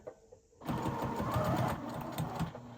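A sewing machine stitching down rickrack trim on a cross stitch gift, starting after a brief quiet moment and running in a steady, moderately close mechanical chatter for about two seconds.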